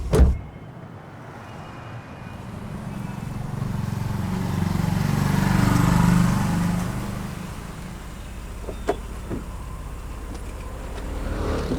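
A car engine idles and revs steadily for several seconds, swelling to a louder rumble midway and then settling, with a sharp knock at the start and small clicks near the end.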